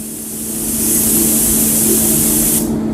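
A paint spray gun at about 2 bar lays down a fine first coat, giving a steady, loud broadband hiss that swells in over the first second, holds, then drops away near the end, with no voices.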